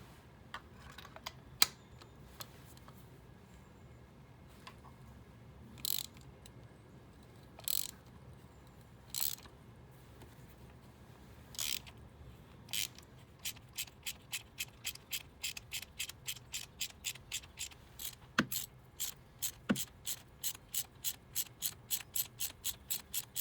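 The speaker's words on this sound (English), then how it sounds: "you need a special spark plug socket that's got like a rubber grip on the inside, so you can just lift the spark plug out." A ratchet fitted with a rubber-gripped spark plug socket removes the spark plugs from a Ford Focus Mk2, giving isolated clicks early on, then a quicker run of evenly spaced ratcheting clicks, close and with no talking.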